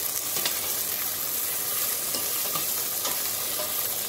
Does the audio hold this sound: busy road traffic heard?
no